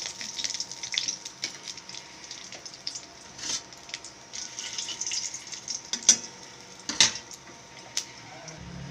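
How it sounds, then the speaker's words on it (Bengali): Whole spices (bay leaf, clove, cinnamon, green cardamom) frying in hot oil while cooking chicken kosha, giving a soft, steady sizzle with scattered crackles and a couple of sharper pops near the end. "এখানে আছে গরম মশলার মধ্যে আছে লবঙ্গ, ডালচিনি, ছোটো এলাচ, এইগুলো আমি তেলের মধ্যে দিলাম।"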